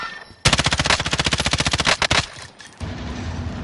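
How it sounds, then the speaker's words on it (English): Rapid automatic gunfire in the video game Warzone, one long burst of evenly spaced shots lasting about a second and a half, loud and close, followed by a few scattered shots and game noise. "Keep shooting for me."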